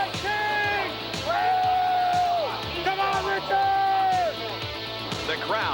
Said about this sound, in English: rises to its feet, salutes the field as it comes down.